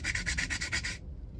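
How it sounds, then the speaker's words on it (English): Sandpaper rubs quickly back and forth on a copper piece salvaged from an air fryer motor, a close, rhythmic rasping of about eight strokes that stops abruptly after one second. "What I do is give it a little bit of a rub"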